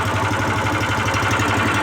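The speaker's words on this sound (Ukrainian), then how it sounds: "Зараз вижимаємо, нехай мотоблочок трохи прогріється." Weima WM1100F walk-behind tractor engine idling steadily while warming up, a close, continuous low chugging throb with no voices.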